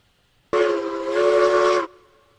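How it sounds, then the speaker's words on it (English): A steam locomotive whistle in the video game Railroads Online gives one loud, sustained chordal blast of about a second and a half, starting abruptly with a breathy hiss and cutting off cleanly, near and alone. "That's a whistle."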